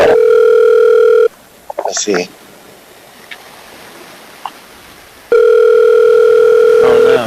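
A telephone dial tone sounds loud and steady during a phone call, then cuts out for several seconds while a person speaks briefly, and returns just as loud near the end.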